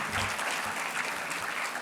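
An audience at the Downstate Honors 2023 ceremony claps in a dense, even wash of applause, moderately loud and sustained throughout with no break.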